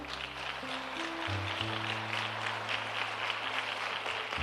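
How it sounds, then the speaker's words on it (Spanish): A church congregation applauds during a service, a soft, steady patter of clapping that sits under sustained organ or keyboard chords. "¿Por qué no le das un aplauso al Señor?"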